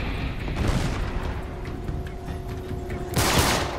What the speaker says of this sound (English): How many grenades you gotta throw